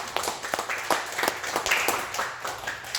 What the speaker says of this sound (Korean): 박수! 박수 하시겠습니다